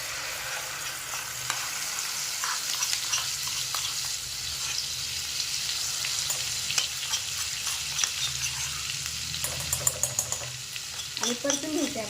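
Ground masala paste sautés in a pan over low heat for a veg kolhapuri, with a continuous close sizzle and repeated scraping stirs of a spoon.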